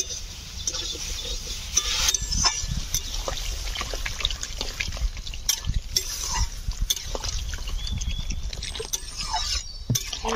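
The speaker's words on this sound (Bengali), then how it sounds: "এবার আমি জল ঢেলে দেবো।" Water poured into a pan of sautéed vegetables (kohlrabi curry with eggplant) makes a steady trickling splash over kitchen clatter, with a few clinks of utensils near the pan.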